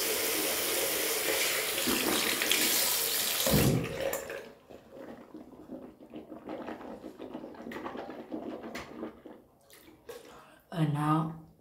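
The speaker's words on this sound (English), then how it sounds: "we rinse with hot water" Hot tap water gushes loudly into a sink for rinsing, then cuts off, followed by quieter handling sounds, faint drips and a brief final splash; a voice talks in the background.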